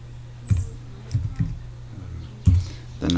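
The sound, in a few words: computer keyboard typing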